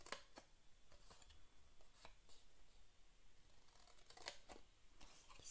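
Scissors snip through cardboard at each fold while a decorative box is being made, heard as a series of short, crisp, fairly quiet cuts spaced irregularly, with a small cluster of snips near the end.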